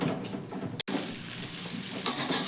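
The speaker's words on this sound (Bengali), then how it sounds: "এবার দেখো সব কিছু ভালো করে একটু মিশিয়ে নেব।" A spoon or spatula stirs spiced potato filling in a hot pan, with a continuous soft sizzle and scraping, close by, broken by one brief sharp clatter.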